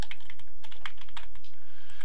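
Rapid, irregular typing on a computer keyboard: close, crisp key clicks arriving in quick bursts with short pauses and no speech.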